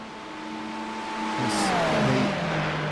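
A BMW GTP race car at the Spa endurance race approaches and sweeps past with a rising, then falling engine whine, its pitch dropping as it goes by, with a steady hum of other cars underneath.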